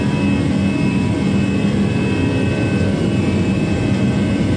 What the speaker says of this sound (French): Voilà, allez, plein gaz.